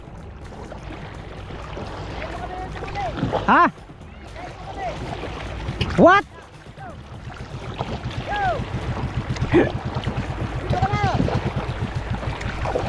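A boat's engine drones over the Pacific Ocean with splashing and wind noise, while people talk nearby and a couple of louder knocks stand out.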